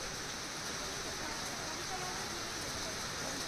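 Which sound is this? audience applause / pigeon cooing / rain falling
rain falling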